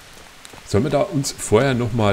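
Rain patters steadily in the medieval game Kingdom Come: Deliverance, a soft, continuous hiss under someone speaking German.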